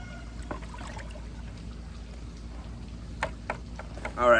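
Liquid plant fertilizer is stirred in a pot, giving soft, steady sloshing and trickling water sounds with a few brief splashes, fairly quiet and close, with no talking.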